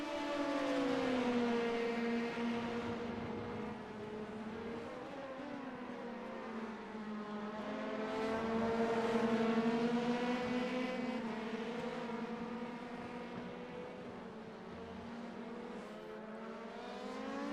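Race cars lapping the Barcelona circuit in a racing video game, a continuous engine drone with rising and falling pitch as cars accelerate and shift, moderately loud with no voices over it.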